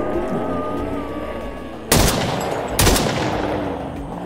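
Two sharp, loud gunshots from the Hopeland video game crack out about a second apart over a low ambient hum, each with a short ringing tail.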